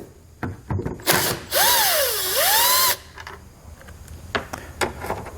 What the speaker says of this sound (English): Below those, you're going to reveal some Torx bolts that we're going to remove with a T15 Torx socket.